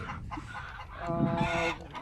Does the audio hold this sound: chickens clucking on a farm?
yes